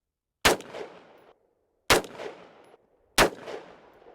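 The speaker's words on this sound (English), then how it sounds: "we'll be shooting both firearms 2 to 3 times, both unsuppressed and then suppressed" Three loud, sharp gunshots from a very short AR-15 rifle, evenly spaced about one and a half seconds apart, each with a brief echoing tail, fired outdoors with and without a suppressor.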